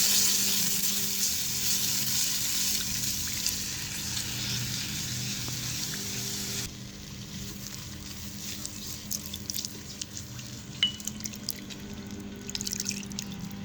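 Milk poured slowly into bubbling roasted flour gives a soft hiss that fades partway through into faint dripping, popping and bubbling, all fairly quiet with no voices.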